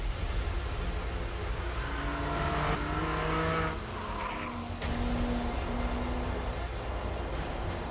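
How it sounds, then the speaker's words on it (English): Porsche 718 Cayman GTS with a 4-litre flat-six engine, a loud, continuous engine roar that rises and falls with revving and includes a brief shift-like break near the middle. "the flat 6 is back. This is the new 718 Cayman GTS 4-litre, the car that we've all been waiting for."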